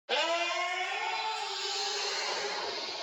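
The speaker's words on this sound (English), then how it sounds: "I wanted to make Poltergeist out of the moans. So slow them way down in time" Eerie, drawn-out moaning voices, slowed and reversed, form a continuous ghostly wail with layered tones that hold steady for several seconds.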